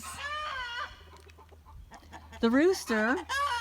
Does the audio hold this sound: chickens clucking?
yes